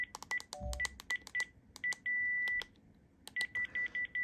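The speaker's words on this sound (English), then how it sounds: "When you press the favorites key in standby, an error tone sounds" Panasonic KX-TGU432 cordless phone keypad tones: a quick series of short electronic beeps with irregular gaps, one held longer in the middle, clear and close in a quiet room.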